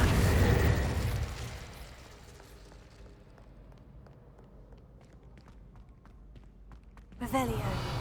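Fiery burst of the Incendio spell in Hogwarts Legacy, a loud whooshing blast that fades over a couple of seconds into quiet footsteps, then another burst near the end, with a voice speaking over it.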